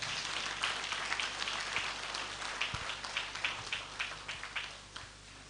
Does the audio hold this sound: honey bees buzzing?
no